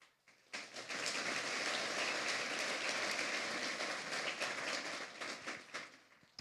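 Audience applause for city commissioners at a Henderson State of the City/County event, rising quickly into a dense, full round of clapping that holds steady, then thins and tapers near the end.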